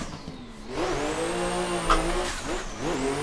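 A drift car at Irwindale Speedway rolls out in fourth gear and accelerates, its engine note climbing and dipping in waves over a continuous squeal of tires, close and loud.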